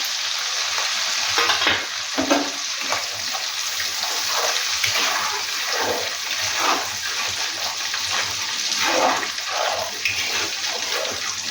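Cinnamon, cardamom and bay leaf crackle in hot oil in a pan, a bright continuous sizzle with bursts of spattering and stirring, close and fairly loud throughout.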